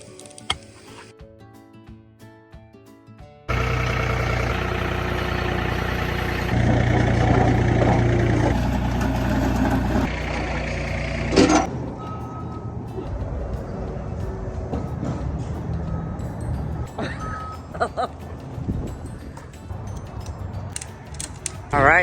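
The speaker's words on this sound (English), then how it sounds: "Use the John Deere tractor and the mini excavator to level the ground where the pathway was going" A John Deere tractor and a mini excavator level ground for a concrete paver pathway, giving a sustained loud mechanical engine drone with grinding, clanking machinery that later drops to a lower rumble with scattered knocks.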